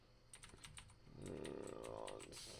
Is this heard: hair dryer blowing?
no